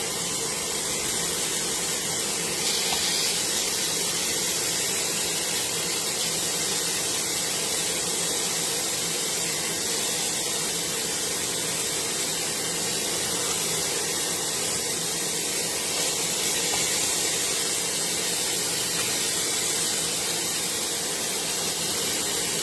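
Chicken breast pieces fry in a non-stick pan without added oil, giving a continuous close hiss and sizzle that holds evenly throughout with no talking.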